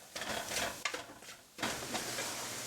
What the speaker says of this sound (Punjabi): ਇਸ ਨੂੰ ਲਗਾਤਾਰ ਹਿਲਾਉਂਦੇ ਰਹਿਣਾ ਹੈ ਜੀ ਸਬਰ ਵੀ ਰੱਖਣਾ ਹੈ